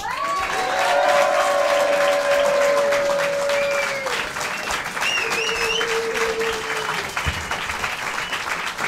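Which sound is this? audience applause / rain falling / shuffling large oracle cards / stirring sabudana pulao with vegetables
audience applause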